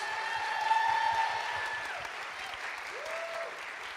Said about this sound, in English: Let's give our panelists one big round of applause.